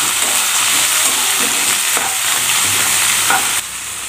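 Onion, green chilli and curry leaves fry in a hot pan with a loud, dense sizzle and occasional stirring, close by and without any talk, quieting slightly at the end.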